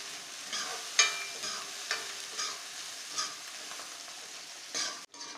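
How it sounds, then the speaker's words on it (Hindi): Capsicum frying in a pan, with a faint, steady sizzle and soft, intermittent scrapes of stirring. There is no speech, and the sound cuts off sharply near the end. "इसके बाद में शिमला मिर्ची डालेंगे, थोड़ा इसको पकाएंगे अच्छे से।"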